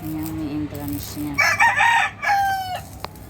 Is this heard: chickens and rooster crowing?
yes